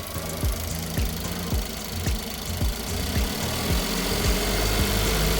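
Suzuki DR17V engine idling with a Tiptronic AGS gearbox, a steady low mechanical rumble with regular rhythmic ticking pulses about twice per second, heard up close and alone.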